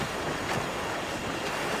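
Sailing ship moving over shallow waters in Assassin's Creed IV: Black Flag, a steady wash of waves and wind around the hull, brief and without speech.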